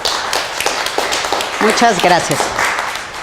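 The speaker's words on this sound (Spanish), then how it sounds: "un aplauso por favor para" An audience applauds after a speaker is introduced at a talk on family and couples therapy, a steady wash of clapping running under a voice speaking close by.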